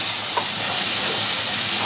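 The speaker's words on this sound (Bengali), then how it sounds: "কষানো হইতেছে।" A meatless vegetable curry made without onion or garlic sizzles and fries in hot oil in a pan, a steady, bright hiss close up with no talking.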